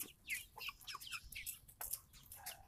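Red Ranger broiler chickens, 48 days old, give a stream of short, high chirpy clucks and calls, several birds overlapping close by against a low background hum.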